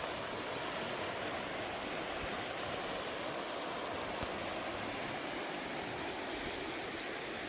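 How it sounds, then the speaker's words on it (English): A river rushes steadily below a high campsite in the Uintah wilderness, a continuous broadband wash of flowing water that stays even and unbroken throughout. "So we're along the river"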